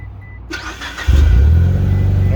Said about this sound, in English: Now start the car.